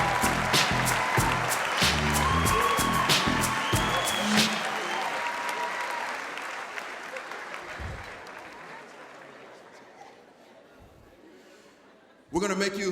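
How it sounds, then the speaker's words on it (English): Hand clapping and applause from a convocation audience, loud and dense at first, then gradually thinning and fading to near quiet before a sudden burst of noise at the end. "Let's give him a big hand clap, everybody."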